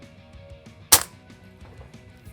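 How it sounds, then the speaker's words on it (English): A single-shot CO2 air rifle fires once with a sharp, loud report and a brief fading tail, set among quieter faint handling clicks from the bolt being worked before and after. "So you pull the bolt back, push it forward, and"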